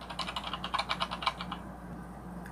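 Rapid keyboard typing clicks along for over a second, then stops, leaving a quiet hum.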